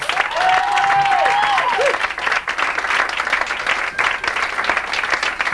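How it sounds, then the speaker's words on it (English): An audience at an orchid show breaks into steady applause, thick clapping throughout with a brief voice or whoop rising over it early on. "I want y'all to give him a big,"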